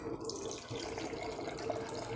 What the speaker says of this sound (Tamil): இந்த கப்பாலே 1 கப்பு அளவு நம்ம தண்ணி ஊற்றி கொதிக்க வச்சு எடுத்துக்கலாங்க.